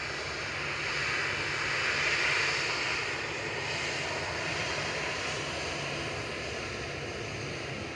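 Gulf Air and Cathay Pacific airliners taxiing at Manchester Airport, a steady distant engine rumble and whine that swells slightly and then holds, with no voices.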